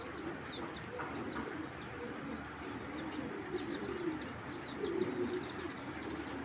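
Low cooing of racing pigeons rolls on steadily over a busy bed of small chirps and bird chatter, with a slightly louder swell of coos near the end.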